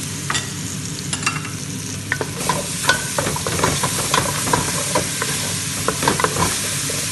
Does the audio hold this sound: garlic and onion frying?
yes